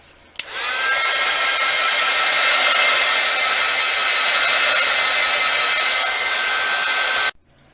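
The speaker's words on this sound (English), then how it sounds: "just a quick heat with my heat gun, just to dry the whole thing back off" A heat gun blows steadily at an altered book cover to dry it, a loud, even whooshing roar that starts abruptly, holds for about seven seconds and cuts off sharply.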